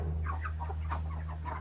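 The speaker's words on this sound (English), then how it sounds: "the majority of the chickens in here are roosters" Young backyard chickens, mostly roosters including Ameraucanas and black copper Marans, clucking and murmuring in short irregular bursts over a steady low hum.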